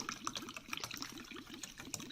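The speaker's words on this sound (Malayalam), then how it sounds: "ഇതിലേക്ക് നമുക്ക് വെള്ളം ഒഴിക്കാം. 200 മുതൽ 250 മില്ലി വെള്ളമാണ് നമുക്ക് ഇതിലേക്ക് ഒഴിക്കേണ്ടത്." Water poured into a container of MoroLife On&On health drink powder, a faint, steady trickling and splashing that runs continuously.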